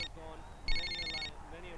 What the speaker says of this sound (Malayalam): ദേ വയറിംഗ് ഇല്ലാത്ത ഫോൺ.